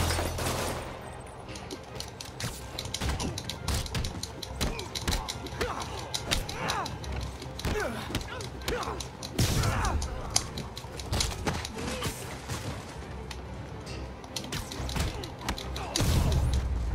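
Thugs open fire in Marvel's Spider-Man, with dense clattering bursts of gunfire and thuds running throughout amid game noise, with voices speaking over parts of it.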